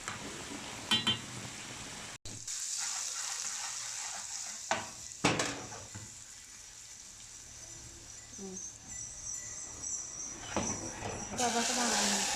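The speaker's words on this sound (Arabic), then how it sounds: "هحط بس هطش عليها اللي هي التوم" Minced garlic sizzling as it is poured over cooked molokhia, a soft steady crackle with a few louder bursts and clinks, continuing at moderate level through the scene.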